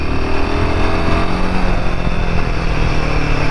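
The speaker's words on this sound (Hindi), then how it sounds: "it's going very smooth and revving up at very high rpm, but not hesitating at all" Royal Enfield Himalayan 450 motorcycle engine running at high rpm, a loud steady drone that holds even throughout with a constant hum and no pauses, no speech over it.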